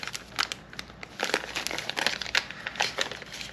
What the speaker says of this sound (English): Ziploc baggie.